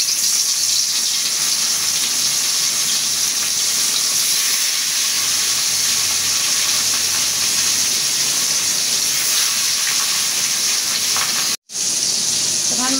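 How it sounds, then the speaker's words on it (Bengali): Fish frying in hot oil, a loud continuous close sizzle with bubbling crackle that runs steadily for the whole stretch, briefly cutting out near the end, no voices. "আমার তেলটা গরম হয়ে গেছে"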